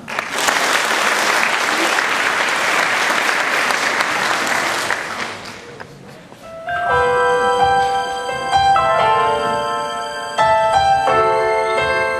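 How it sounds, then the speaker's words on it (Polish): A concert audience claps in sustained, dense applause for about six seconds, then it fades as music begins. "Brawa."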